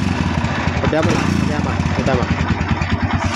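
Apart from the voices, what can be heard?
Barako motorcycle engine starting and running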